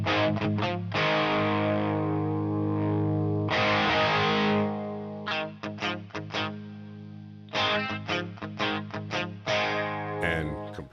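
Electric guitar through a Mosky Compass overdrive turned down to a cleaner tone, sustained strummed chords followed by rhythmic picked phrases, loud and alone with no talk.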